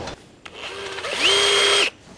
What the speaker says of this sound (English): Little clear out with the drill.